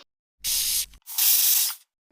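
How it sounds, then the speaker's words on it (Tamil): A green apple face spray pumped twice during a makeup session, two hissing bursts of fine mist with a brief pause between, close and clear with no voices. "அதுக்கு தான் நான் இந்த ஸ்ப்ரே அப்ளை பண்ணுறேன்."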